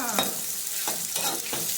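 Food sizzles in a hot pan with chicken while a spatula scrapes through it in three or four brisk strokes, close and steady.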